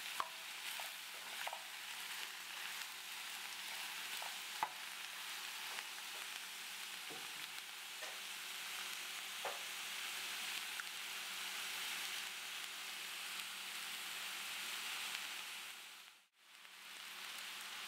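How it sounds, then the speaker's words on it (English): Zucchini and onion sauté in a pan with a continuous soft sizzle and occasional stirring scrapes, steady throughout before a brief dip near the end. "And saute this for about 5 minutes until the zucchini is just getting soft."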